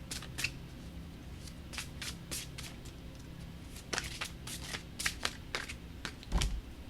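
Tarot cards shuffled for a reading: quick papery riffles and flicks in irregular bursts, fairly close but soft, with no talking.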